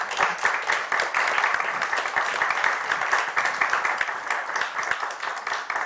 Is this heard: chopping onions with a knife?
no